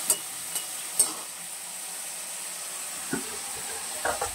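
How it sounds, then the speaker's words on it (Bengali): Jackfruit seeds fry in a pan with a soft, steady sizzle, punctuated by a few sharp pops and clicks of the pan or utensil. "কাঁঠালের বীজটা ভাজা হবে"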